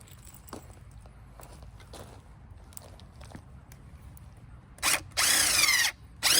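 A power drill drives 3-inch deck screws into 2x10 boards, with quiet handling and shuffling at first, then short whirring bursts and one sustained loud run near the end.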